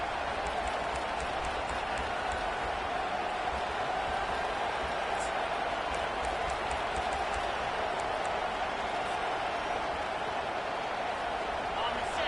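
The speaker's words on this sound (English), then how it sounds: "Here comes this home crowd as the defense tries to get off the field on 3rd down." A home crowd roars continuously through a stadium in an American football video game as the defense faces third down. The dense, steady cheering holds a constant loud level beneath a commentator's voice.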